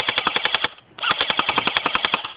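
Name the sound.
airsoft gun firing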